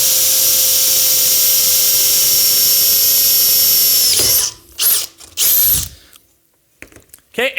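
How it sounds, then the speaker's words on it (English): A power drill runs loud and steady as it bores through a metal launcher bracket, then the motor winds down and gives several short bursts of drilling. "And when I am, then I will start drilling again."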